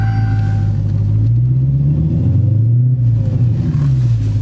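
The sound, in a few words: Hellcat vehicle engine starting and moving off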